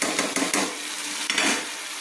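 Fried fish head pieces dropped into a pan of hot spiced potatoes for macher mathar kosha, a close, bright sizzle with a few stirring scrapes of the pan and no talking.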